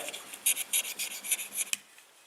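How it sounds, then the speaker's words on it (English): A knife or scraper is drawn gently over paint overspray on a Metro 6R4 rally car, giving a quick run of short, soft rasping strokes close up before it goes quiet. "we're just using a knife or a scraper to get rid of the overspray very, very gently"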